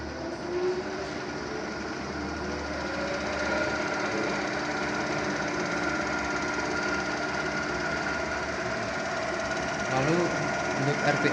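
An electric motor drives a synchronous generator loaded with six lamps, producing a steady mechanical hum and whine with a constant rhythmic rattle throughout. A person speaks over the running machine.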